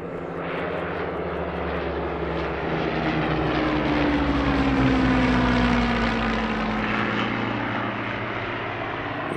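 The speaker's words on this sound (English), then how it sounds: "the only Battle of Britain Hurricane still flying today" A Hawker Hurricane Battle of Britain fighter flies past at an airshow, its piston engine roaring loudly, swelling to a peak and tapering, with a descending pitch sweep as it passes overhead.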